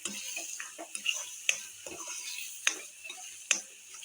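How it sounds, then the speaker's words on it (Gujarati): Boiled vegetables being stirred into pav bhaji gravy in a pan, with soft scraping strokes and a few sharp spoon clicks against the metal over a faint sizzle, no talking. "શાકભાજી બાફેલા બધાય અને ગ્રેવી સાથે મિક્સ કરી દેવી"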